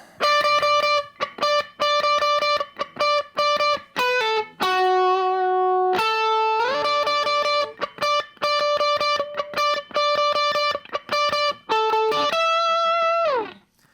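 An electric guitar plays picked notes and sustained chords drenched in a long, swelling bloom reverb, loud and close, without any voices.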